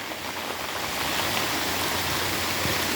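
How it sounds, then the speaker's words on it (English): Steady rain pours down outdoors over a garden watermelon patch, a dense, even hiss of falling drops that stays loud and unbroken throughout. "The rain has come."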